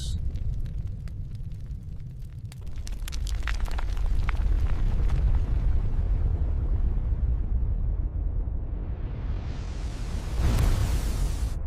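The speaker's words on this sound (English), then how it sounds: "Fire Mountain exploded with a roar that shook the sky." A volcano erupting in a prehistoric setting, a sustained deep roar with crackling bursts early on and a rising, rushing swell near the end.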